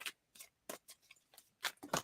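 A tarot card deck shuffled loosely by hand, a series of short, close papery riffles and flicks in uneven bursts, with no talk.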